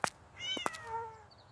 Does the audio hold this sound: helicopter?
no